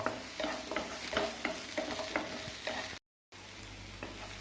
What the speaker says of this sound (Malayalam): ഇതിലേക്ക് നമുക്ക് ഈ ഇഞ്ചി ഇതേമാതിരി മുറിച്ചിട്ട് കൊടുക്കാം. പിന്നെ വെളുത്തുള്ളി ഇട്ട് കൊടുക്കാം. ഇനി ഇതൊന്ന് വഴറ്റട്ടെ